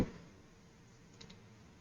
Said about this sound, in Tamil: மெயில் ஐடியை டைப் பண்ணுறோம்